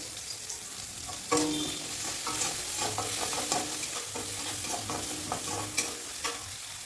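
Fried potatoes and onions being stirred into a pan for chire polao (flattened rice pilaf), a steady close sizzle with repeated scraping strokes of the spoon and a few sharper clinks throughout.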